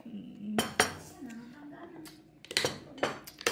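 Dishes and cutlery are washed, with sharp metallic clatters and clinks arriving in bursts of a few knocks each. A faint voice talks underneath.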